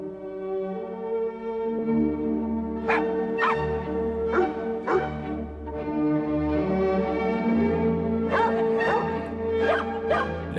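A dog barks repeatedly in sharp, fairly close yelps and woofs, spaced unevenly and sometimes doubled, over a steady low musical drone.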